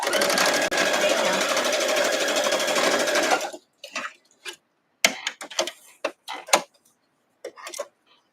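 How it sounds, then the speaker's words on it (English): A sewing machine stitching across quilt fabric runs steadily and close for about three seconds, then stops, followed by brief clicks and handling noises along with short bits of talk. "I'm going to sew all the way across"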